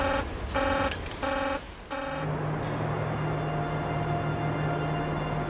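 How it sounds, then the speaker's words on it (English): A control-room alarm in a dramatized Chernobyl reactor scene blares in repeated loud electronic pulses, then settles into a continuous steady tone over a dense hum, with no talking. "Another alarm."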